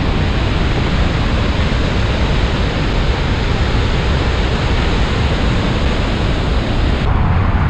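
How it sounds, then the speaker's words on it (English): Powerful waterfall heard close up, a loud, continuous broadband roar of rushing water that stays steady throughout with no voices. "an impressive waterfall"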